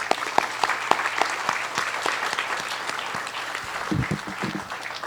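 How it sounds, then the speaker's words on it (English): A modest crowd claps steadily for about five seconds, individual claps audible, fading slightly toward the end. "give our two recipients one more round of applause"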